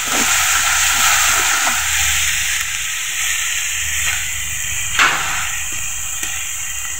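Chili powder and turmeric paste being fried in a pan for a Bangladeshi barbel fish curry, a steady close hiss and sizzle continuing throughout, with occasional light clicks of a spatula.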